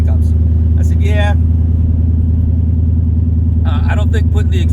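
A car engine idling loudly with no exhaust fitted, a deep, steady, throbbing rumble close by that runs throughout, with a voice speaking over it at the start and again near the end.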